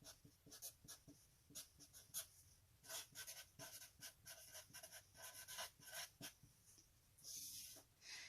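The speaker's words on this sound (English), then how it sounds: "I'll go ahead and start by writing out at the top that this is my creativity" A pen writes on paper with quick scratchy strokes, a faint, close series of short rubbing bursts in an irregular rhythm and no voices.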